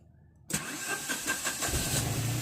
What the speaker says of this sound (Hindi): अब मैं तुरंत ही अपनी नैनो को स्टार्ट करने के लिए वैसे ही फर्स्ट टर्न, सेकंड टर्न